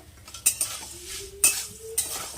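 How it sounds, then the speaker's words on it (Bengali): Maggi noodles, crushed by hand, fried and stirred in a pan, with soft sizzling beneath a few sharp clinks of a utensil against the pan, no talking. "তো একটুখানি ভালো মতো করে এটাকে ভেজে নিতে হবে"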